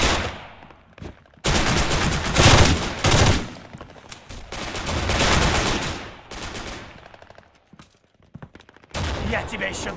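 Rapid bursts of gunfire from a World War II shooter video game with a grenadier class, several loud volleys and fusillades separated by short pauses, with a brief quiet stretch near the end.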